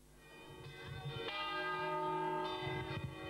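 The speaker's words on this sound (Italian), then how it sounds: "Condove farà suonare oggi le sue campane per noi" Church bells of Condove in Italy ringing for a feast day, several bells sounding together in a continuous, resonant peal with repeated strikes layered over one another.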